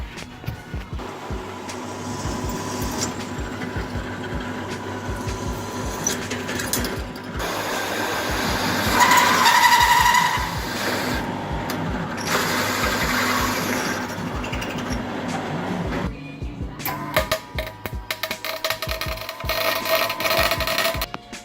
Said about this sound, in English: now we're just drilling out the holes through the captive nuts